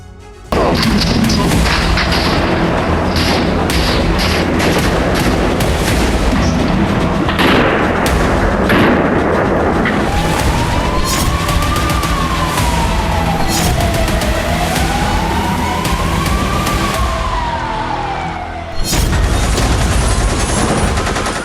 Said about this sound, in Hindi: हमलावरों ने भीड़ पर अंधाधुंध गोलियां चलाई